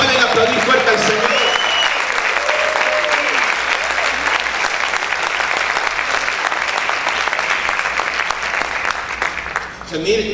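A church congregation applauds loudly during a Spanish-language service, a dense steady wash of clapping filling nearly the whole stretch before easing off at the very end, with faint voices mixed in.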